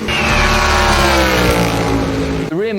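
A NASCAR stock car engine at Le Mans roars loud and close, a deep, rich V8 bellow that climbs steadily in pitch as it revs, then cuts off abruptly near the end.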